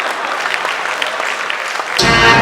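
An audience claps at a live comedy show, a brief burst of dense applause that swells toward the end of the short stretch.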